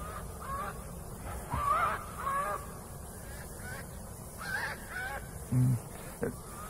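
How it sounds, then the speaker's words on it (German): Hooded crows in a radio play give several harsh caws spaced across a few seconds, one near and louder, over a steady outdoor background hum. "Das sind Nebelkrähen."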